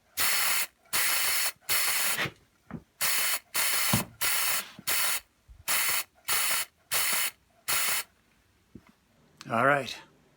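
Repeated bursts of aerosol spray paint applied to an Athol bench vise during restoration, about a dozen short hissing passes in a steady rhythm, close and clear, ending with a brief rattle.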